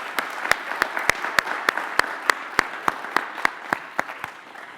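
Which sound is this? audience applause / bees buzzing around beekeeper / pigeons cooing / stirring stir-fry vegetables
audience applause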